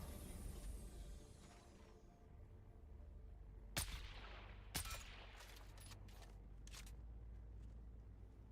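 Gunfire in the video game Dune: Awakening: a few sharp, loud shots ring out at moments, with scattered fainter shots and a steady low rumble in between.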